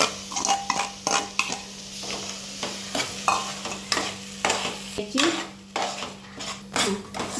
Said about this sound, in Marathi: त्याच्यामध्ये आपण बारीक केलेला कांदा लसणीची पेस्ट घालायची